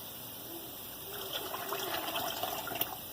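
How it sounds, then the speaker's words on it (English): Water pouring steadily into a pot, a continuous rushing splash that grows slightly fuller toward the end. "I'm just going to pour water in there"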